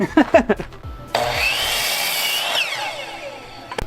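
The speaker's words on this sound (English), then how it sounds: "we're gonna be using a miter saw" A miter saw cuts through a wooden axe handle during restoration of a century-old rusty axe, a loud sustained whine of about one and a half seconds after some brief knocks and handling, followed by a trailing spin-down.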